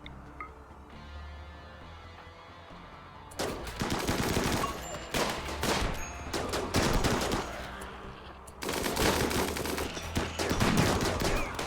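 Colonists in the RimWorld video game fire guns in rapid, overlapping bursts of sharp cracks and clattering volleys after a quiet start, with two sustained stretches of dense shooting and no talk.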